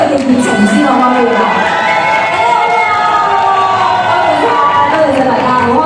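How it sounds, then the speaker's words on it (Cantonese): A large crowd cheers, whoops and shouts, with children's voices mixed in, at a TV drama promotional event in a shopping mall atrium; loud, continuous and close, with only light clapping beneath the roar. "我俾啲掌聲同埋呼聲度感受下大家今日嘅熱情先好嗎？"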